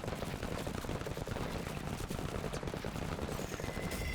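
Gunfire from the tactical game MENACE, a dense rattling volley of rapid shots that carries on without pause at a fairly low level, with no voices.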